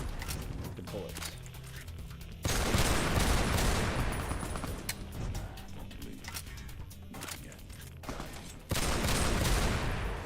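Gunfire in Fallout: New Vegas during the Lonesome Road content, a sustained, heavy stretch of rapid shots with loud bursts and dense crackling. A voice speaks between the volleys.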